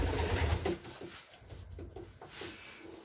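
Pigeons in a loft compartment coo softly and flap their wings in short bursts as they fly from side to side, faint and close, with no talking.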